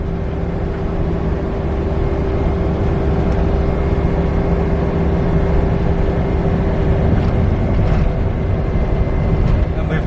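Vehicle driving up a small hill on Toorale station, heard from inside as a loud, steady engine drone with a constant low hum and rumbling road noise throughout.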